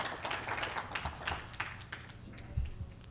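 Audience clapping rises at a book launch event as a guest speaker, a TV channel founder, is welcomed to the stage; scattered dense applause with a few louder close claps near the end.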